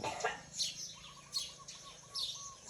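Birds chirping in the open, a repeated thin whistled call running beneath brighter rustling chirps that come in bursts, moderately close.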